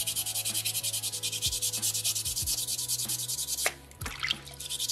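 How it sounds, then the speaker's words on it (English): Sandpaper rubs rhythmically over a small Brazilian soapstone carving from a beaver carving kit, a close, loud, steady scratching in repeated strokes that pauses briefly before resuming. "And with sandpaper two, you should really notice the natural color starting to come out."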